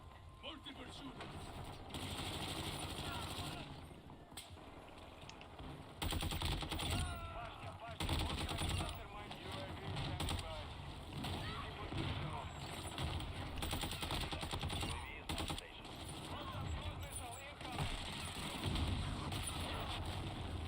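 Gunfire from several shooters crackles through a Modern Warfare 2 match in repeated bursts and scattered shots, fairly faint, mixed with engine-like rumble and voices talking over it.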